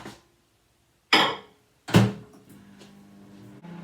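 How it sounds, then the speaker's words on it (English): A microwave door clunks open and then shuts with a firmer thud a moment later, two distinct knocks in a quiet kitchen followed by a low hum. "I'm going to pop it in the microwave now"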